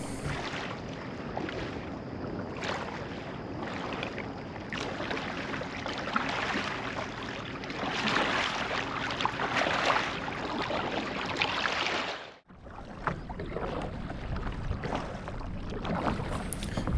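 A Point 65 North three-piece modular kayak is paddled on open water in tandem setup with one paddler, with steady washing strokes and water wash under wind noise, a brief dropout, then paddling resumes.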